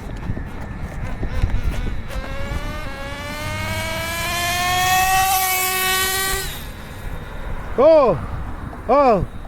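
A radio-controlled car with a .21 nitro engine screams at high revs, its pitch climbing steadily as it accelerates away, then two sharp rev bursts near the end, loud and close over outdoor background.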